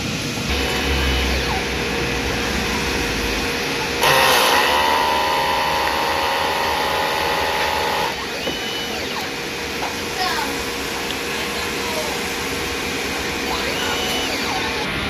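A DTF printer runs a print-head cleaning cycle as a steady mechanical whir and hum, with a louder pump-like surge for a few seconds in the middle before settling back to a constant drone.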